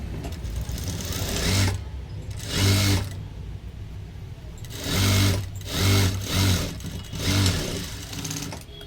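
Sewing machine stitching a blouse in short bursts of rapid, whirring stitches, about five runs of varying length separated by brief pauses, loud and close with no talking.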